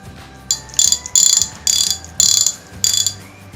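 A modified fishing reel's gears click rapidly in five quick bursts as the handle is spun, each ratcheting run close and fairly loud with brief pauses between.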